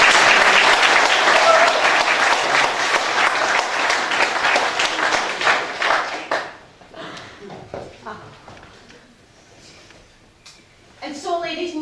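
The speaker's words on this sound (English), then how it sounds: "let's give them a round of applause." Wedding guests give a loud, dense round of applause that fills the first half and then fades away, leaving quieter room sound and a voice starting to speak.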